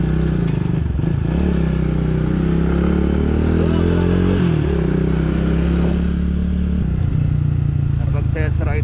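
CF Moto motorcycles, including the 450CLC, CLX300, NK450 and 450MT, ride along after a test ride, engines droning close with shifting revs and a dip mid-way while wind buffets and voices come through.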